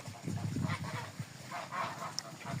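Muscovy ducks and white drakes call repeatedly up close in a farmyard, giving low, breathy hissing and honking bursts in an uneven series, with one brief higher squeak near the end.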